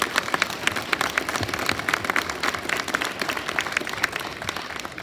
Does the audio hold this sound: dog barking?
no